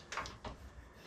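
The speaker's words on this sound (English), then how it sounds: "Let's open the shed door as well." A wooden shed door slides open nearby in a couple of short scraping, rumbling bursts, followed by a quieter trailing rustle, with no talk over it.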